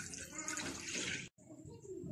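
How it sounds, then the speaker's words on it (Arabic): Half a litre of milk poured into a bowl, giving a close, continuous liquid splashing stream that breaks off briefly for a moment before resuming more softly. "غادي نكب نصف لتر ديال الحليب ديالي هنايا في هاد الجبانه"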